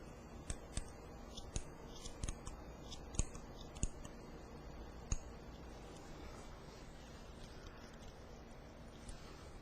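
Scissors snip the ends of a woman's one-length haircut, held level, giving a series of soft, quiet metallic clicks spaced irregularly over faint room background, with no talking.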